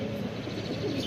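A racing pigeon coos in low, throaty murmurs, close by and continuous through the short moment, with no speech.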